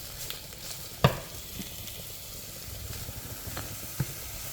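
Chopped veal frying in a pan, a steady low sizzle and hiss with a sharp utensil knock near the start and a few lighter clicks later.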